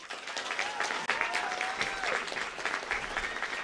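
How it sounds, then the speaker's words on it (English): Sustained crowd applause at a high school graduation ceremony, dense and even throughout, with faint whistles and cheers rising over the clapping. "give a round of applause"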